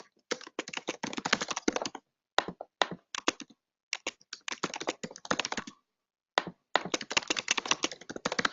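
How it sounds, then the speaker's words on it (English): Rapid bursts of typing on a computer keyboard, close and clear, with short pauses between runs of keystrokes and no talking. "So let's type those really quickly."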